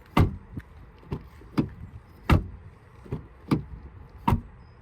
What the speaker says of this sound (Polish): posłuchajmy jeszcze dźwięku zamykania drzwi